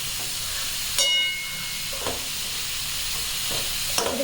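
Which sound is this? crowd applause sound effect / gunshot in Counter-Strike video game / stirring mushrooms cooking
stirring mushrooms cooking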